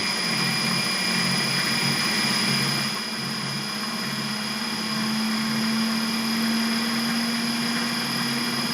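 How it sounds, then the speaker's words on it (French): A 2000-watt engine driving four alternators runs loud and steady with a continuous droning whine and a slowly rising tone, with no speech. "J'ai un moteur qui fait tourner 4 alternateurs."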